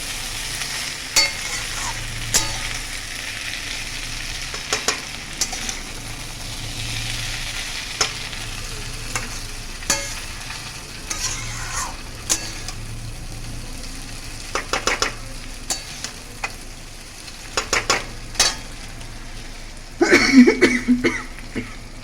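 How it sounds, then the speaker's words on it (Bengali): Milk stirred and fried in a small amount of oil with no spices gives a steady soft sizzle broken by repeated scraping stir strokes, with a louder burst of frying and clatter near the end. "এবারে দুধটাকে আমরা ভালো করে মিক্স করে নেবো, আর ভালো করে একটু ফ্রাই করে নেবো, একদম অল্প তেলে"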